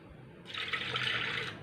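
Water poured into a pressure cooker holding lentils and spices, a steady splashing rush that starts suddenly, runs for about a second and then stops.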